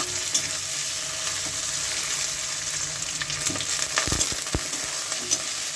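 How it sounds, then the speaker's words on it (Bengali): Potatoes and onions stir-fry with turmeric and salt in a pan, a steady sizzle with a few sharp scrapes and clunks of the spatula near the end. "এখন একটু হলুদ আর একটু নুন দিয়ে আলুগুলো একটু ভেজে নিচ্ছি পেঁয়াজের সঙ্গে"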